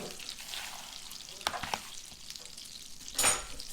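Spiny lobster tails frying in a pan of oil, a steady close sizzle with a few sharper pops and one brief louder crackling burst near the end, no talking.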